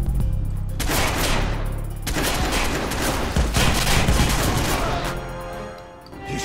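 Gunfire during a boss fight in the Watch Dogs video game, with dense rapid bursts of shots and heavy booming impacts that run almost continuously, loud and close, fading near the end, with no talk.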